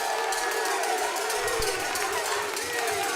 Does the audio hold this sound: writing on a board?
no